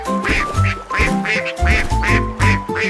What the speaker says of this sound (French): Tous les canards cancanaient et battaient des ailes.